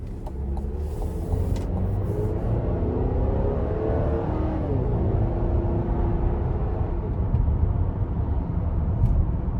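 A 2025 Buick Enclave Avenir pulls hard out of a corner, its engine and road rumble swelling into a steady, rising drone that holds loud and continuous from start to finish.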